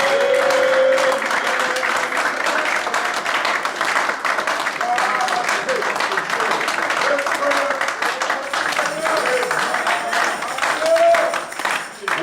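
A church congregation applauding and cheering, with dense sustained clapping throughout and a preacher's voice calling out over it.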